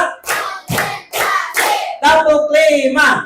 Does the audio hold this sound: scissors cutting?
no